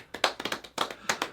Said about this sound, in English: claps for Luna on that one